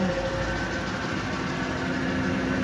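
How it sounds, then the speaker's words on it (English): A Tarnow TUJ-50M engine lathe runs with its spindle turning at 20 RPM, giving a steady, continuous mechanical hum with a faint whine, close and unbroken throughout with no talking. "Video inspection of the Tarnow TUJ-50M lathe with the spindle at 20 RPMs right now."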